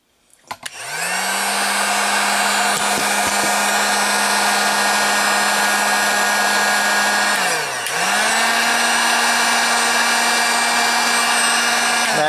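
A hair dryer blows hot air onto a warped plastic part of a Badcube 2017 reissue Brawn transforming toy, running loud and steady, with a brief dip and restart partway through.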